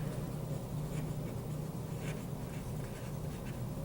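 Pen or marker strokes while a chemistry mechanism is written out by hand, a faint scratchy texture running steadily under a low room hum.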